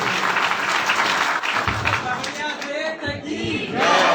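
An audience at a devotional Bhagavata Katha gathering bursts into loud, dense applause to welcome a guest, the clapping fading as voices and music rise over it.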